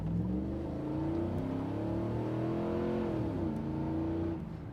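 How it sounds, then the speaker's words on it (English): A 1997 GMC Sierra OBS pickup with 69K original miles and an upgraded engine revs steadily, its exhaust holding a deep, continuous rumbling note close by for several seconds before easing off at the end. "the exhaust note sounds fantastic on this truck"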